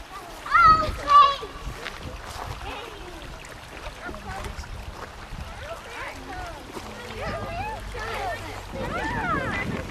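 People, children among them, splash into Bubble Pond in Maine. Bursts of splashing stand out early, then softer water sounds continue under frequent talk and children's voices.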